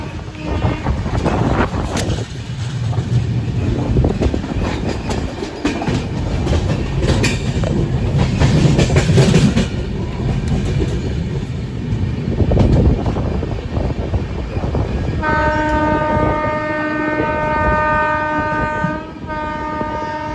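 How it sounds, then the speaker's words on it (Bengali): A passenger train on the Kolkata to Puri line pulls away, with loud rolling rumble and clattering wheels, then a long sustained horn blast sounding near the end. "আর সিগন্যাল আছে, আমাদের ট্রেন বেরিয়ে যাবে।"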